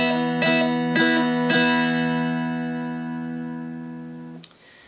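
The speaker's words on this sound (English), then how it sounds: "And if I use noter lifts in between each note, it would sound like this." Mountain dulcimer notes with noter lifts between each, three distinct plucks that end in a long ringing decay, played solo and close.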